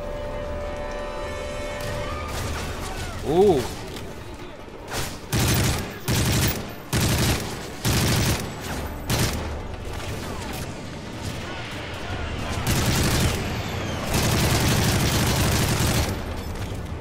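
Gunfire and exploding rounds in the video game Call of Duty Modern Warfare 3: a sharp pop starts it, then a rapid series of loud, evenly spaced bangs. A dense, crackling barrage rolls on after that like fireworks.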